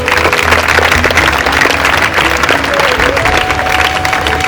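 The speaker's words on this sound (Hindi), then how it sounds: "कृपया करके एक बार इनके लिए तालियां बजाइए" Audience applause at a school Teachers Day function, dense steady clapping from a crowd filling the whole stretch, loud and close with faint tonal hum underneath.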